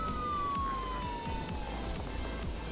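A police car siren from a police video game wails steadily and loudly, its tone sliding slowly downward over a continuous engine-like rumble.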